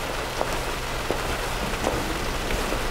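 Steady rain falls outdoors, a dense, constant hiss of drops on surfaces with a few slightly louder spatters and no voices over it.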